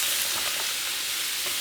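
Celery, onion and green pepper sizzle steadily in a hot frying pan, a continuous close, bright crackle with small pops and no talking.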